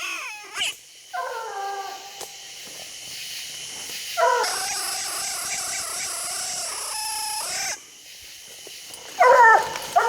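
Hunting dogs on a raccoon hunt bark and whine at a distance, with several bursts of high yelping over steady outdoor hiss.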